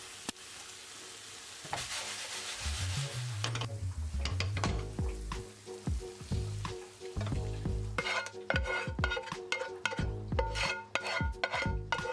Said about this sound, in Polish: Wszystko jeszcze chwilę podsmażam i wrzucam do mięsa.